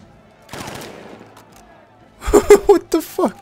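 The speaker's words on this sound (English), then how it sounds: "Why is he shooting the floor?" Gunfire in the Batman Arkham Knight video game: a short burst of shots early on, then a quick cluster of loud rapid reports a couple of seconds later, with a voice speaking near the start.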